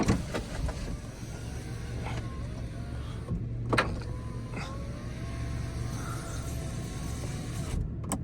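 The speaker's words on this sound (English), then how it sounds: "So now we've got the roof up, I can pop the windows up." Electric power windows on a VW Beetle convertible whirring up with the roof raised, a steady motor hum running through the clip with clicks and thumps as the glass moves and seats, close and fairly loud.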